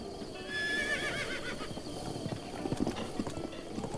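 A horse neighs near the start in a Zelda game, then its hooves clip-clop steadily over ambient game sound, with a few louder hoof knocks toward the end.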